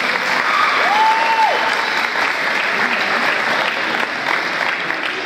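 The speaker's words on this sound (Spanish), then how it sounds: "Un aplauso para los chicos." Steady applause from a crowd at a handball match, sustained and fairly loud throughout, with no talk over it.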